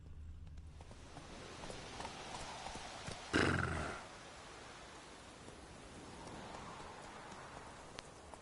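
Roach, a horse in The Witcher video game, walks along with soft, faint hoof clip-clops under a steady ambient wash, interrupted by one loud half-second burst.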